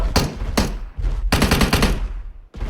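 Rapid bursts of automatic gunfire from PUBG Mobile, loud and close, in several sustained volleys separated by brief pauses.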